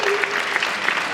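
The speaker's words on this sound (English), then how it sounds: "can we all like just like give her some applause?" An audience clapping at a fan convention panel, a dense, even burst of many hands applauding together, close and continuous.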